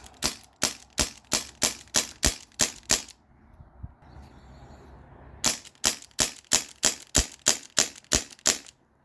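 A modified Umarex Brodax BB revolver powered by a 12 gram CO2 cartridge fires two rapid strings of sharp, evenly spaced cracks, about nine shots then a brief pause with faint rustling, then about ten more, close and crisp.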